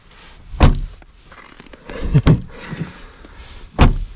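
Three solid thuds of a Geely MK car door shutting, spaced a second or so apart, each a firm close slam with faint rustling between.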